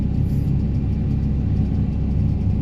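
A Daedong vibrating rammer runs steadily nearby during a test after repair, a loud low thudding rumble with rapid regular pulses and no pauses.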